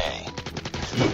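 Rapid automatic gunfire in a shooter video game, a fast, dense rattle of close shots that fills the short moment.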